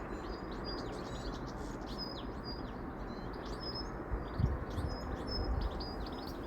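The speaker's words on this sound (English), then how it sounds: "So it's nice to hear the little bit bird song." Goldfinches in spring chirping and twittering in short bright bursts against steady outdoor background noise, faint and somewhat distant, with a brief low thump near the end.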